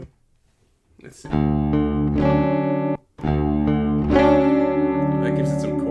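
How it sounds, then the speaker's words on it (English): Sustained guitar chords with a shimmering, doubled chorus effect, ringing loud and close after a brief quiet start, with one short break. "That gives it some chorusy sound."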